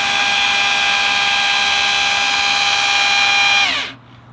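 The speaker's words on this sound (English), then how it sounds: "hold this drill to the side here" Power drill whirring at a steady high pitch for several seconds, close and loud, then winding down abruptly as the trigger is released.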